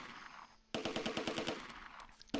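Rapid automatic gunfire in the Close Combat II war strategy game, a sharp burst of evenly spaced shots lasting about a second and a half after a brief lull, loud and close.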